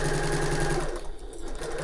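A sewing machine backstitches at the start of a tote bag seam at regular stitch length, giving a close, fast mechanical whir for about a second before it slows and stops.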